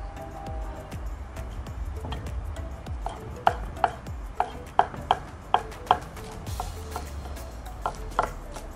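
Coriander leaves are chopped with a knife on a board, about a dozen crisp, close chops in an irregular run that quickens in the middle before trailing off, with no talking.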